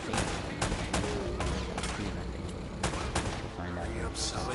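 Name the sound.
gunfire in the Uncharted: Drake's Fortune video game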